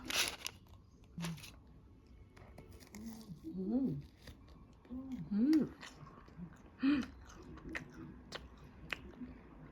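Close-up chewing of a buttery, slightly crispy pastry with soft bites and crinkly tearing, a few moist munches spaced out between quiet pauses, no talking.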